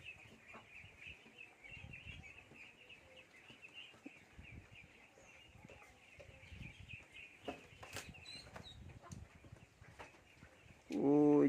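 A flock of Khaki Campbell ducks on an open wetland gives faint, scattered calls against quiet outdoor ambience, ending in a brief, much louder close sound.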